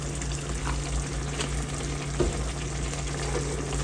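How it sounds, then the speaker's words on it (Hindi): Spiced eggplant mixture fries in oil in a pan, a steady close sizzle with faint scraping of stirring throughout. "इतना भुनेंगे कि इसमें से ऑयल निकल आए।"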